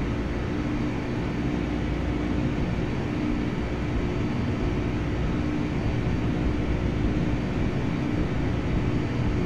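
Engines of a QualityWings 757-300 at takeoff power in a flight simulator, a steady, loud, unbroken roar with a constant engine hum throughout.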